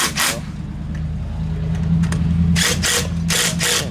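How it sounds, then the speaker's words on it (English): An impact wrench buzzes lug nuts onto a VW Beetle, loud rattling bursts at the start and again near the end over a steady mechanical hum, close to the microphone. "Buzz them on with the impact."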